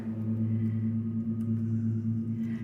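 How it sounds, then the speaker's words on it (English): Lawn mower cutting grass outside, a continuous low engine hum with a steady buzzing drone heard from indoors at moderate level, with no speech. "that sound is us getting our grass mowed."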